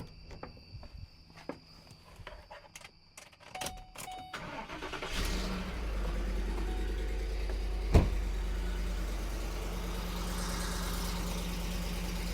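A Ford Sport Trac pickup engine cranks and starts after exhaust manifold repair, then settles into a steady, loud, close idle, preceded by a few seconds of shop footsteps and handling noises.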